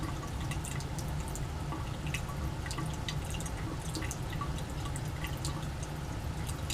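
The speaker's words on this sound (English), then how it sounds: "we're starting to get a little bit of dripping just in the bottom of the claisen" Liquid drips inside the Claisen adapter of a reflux setup heated on a sand bath during a Grignard ketone addition. Faint scattered ticks sit over a continuous low background hiss.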